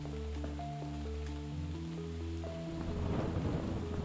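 Steady rain in the Princess Quest area of the video game FNAF Security Breach forms a constant hiss beneath game music with sustained tones, and the downpour swells louder toward the end.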